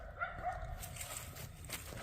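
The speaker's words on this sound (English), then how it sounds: "all the dogs are going nuts" Several dogs bark and yip in the woods, heard faintly at a distance in a few scattered calls against quiet outdoor ambience.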